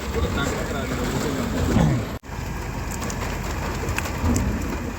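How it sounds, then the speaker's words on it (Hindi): Heavy rain pours down steadily on a road in traffic on the way to Murree, a loud continuous hiss of drops on surfaces, with a brief sharp break in the middle. "बारिश आ गई बहुत तेज भाई"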